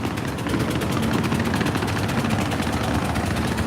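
A trawler boat engine thumps and drones continuously at close range at Sadarghat, its rapid rhythmic knocking steady and loud from start to finish.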